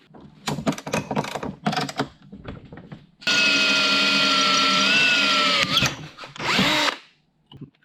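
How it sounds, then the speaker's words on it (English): A power drill bores holes through metal plates for a small sailboat mast mount, a steady whining run of about two and a half seconds, then shorter bursts, with clicks and handling noises around it. "And now we drill these."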